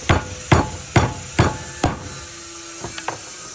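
Five sharp, evenly spaced hammer blows ring out as a suspension link is driven into place on a Ford F150 single cab being bagged, followed by a couple of lighter taps.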